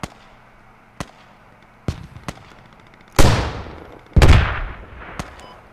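An RPG rocket explosion in the military shooter game Squad: scattered sharp gunshot cracks lead into two loud, booming blasts about a second apart, each with a long rumbling decay.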